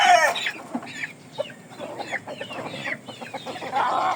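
Roosters on a gamecock farm cluck and crow close by, a busy run of clucks with a short crowing call near the start and another toward the end.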